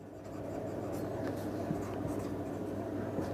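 A pen or chalk scratches steadily across a board in a classroom, faint strokes over a constant low rumble of room noise, with no clear speech.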